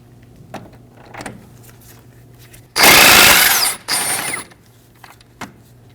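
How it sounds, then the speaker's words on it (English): An impact gun rattles in two loud bursts, a longer one and then a shorter one, while removing the 15 mm outer tie rod nut on a Ford Transit Connect. Quiet shop clicks come before and after. "We are going to remove our outer tie rod nut using a 15mm on impact gun."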